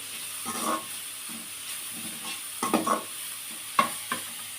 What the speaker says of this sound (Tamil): இதை வந்து நல்லா வந்து இது மாதிரி கலந்து விட்டுக்கலாம்